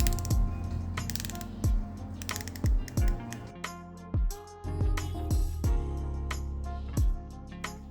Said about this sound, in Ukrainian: Чорний керамічний безель на 60 кліків.